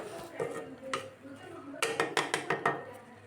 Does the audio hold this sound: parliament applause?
no